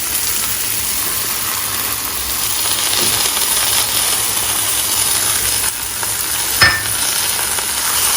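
Curd added to sizzling masala in a pan for a Bengali prawn curry, a steady close hiss and crackle of frying with a brief clink of a utensil against the pan near the end.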